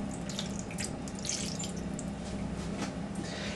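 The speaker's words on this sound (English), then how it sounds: "pour in a good glass of water into the roasting tin" A good glass of water poured into a roasting tin holding slow-cooked lamb shanks, making a steady, close splashing stream that runs the whole time, with no talking.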